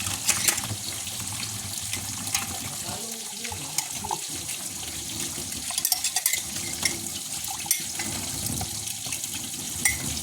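Water runs continuously from a tap into a sink during washing, with clinks and splashes of handled items over the steady flow.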